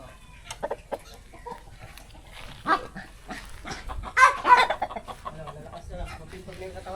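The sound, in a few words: chick chirping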